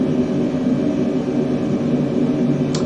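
A test airplane flies with a steady, loud engine drone and a low rumble that holds evenly throughout, with no talking.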